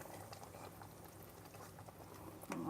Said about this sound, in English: this is bubbling along nicely